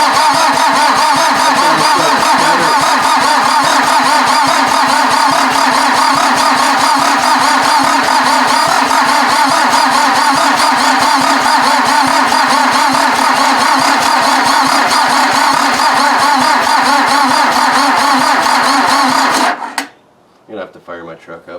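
A VW diesel engine fitted in an offroad Mazda cranks with a rapid, loud, rhythmic chugging for nearly twenty seconds, then abruptly stops and leaves a near-silent pause.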